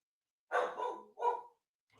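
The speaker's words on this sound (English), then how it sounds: "She's barking because there's probably a little squirrel outside." A female pet dog gives two sharp barks close by, a longer bark followed by a shorter one, with silence around them.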